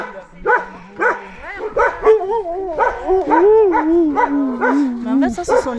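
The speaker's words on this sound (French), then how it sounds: "ça, ce sont les chiens pour l'hiver" Sled dogs kept for winter on a snowy plateau bark, yip and whimper in repeated short calls that blend into a long whining cry, close by, with people talking and cooing to them now and then.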